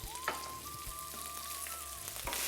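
Curry leaves sizzle and crackle in hot oil in a pan for coconut rice, a steady, fairly quiet frying hiss with a few soft clinks of stirring.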